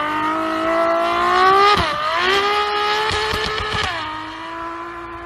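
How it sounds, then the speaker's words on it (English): Car in the Friday the 13th video game revving and speeding away, its engine pitch rising and falling with brief tire squeals, loud and close. "Let's roll the clip of us speed racing out of it."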